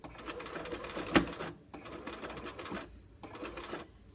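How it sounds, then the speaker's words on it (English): Sewing machine stitching a centered zipper into a garment, running in short whirring bursts with a sharp click near the start and brief pauses between runs, close and fairly quiet. "It's okay to stitch across the teeth here because the needle will catch in the holes."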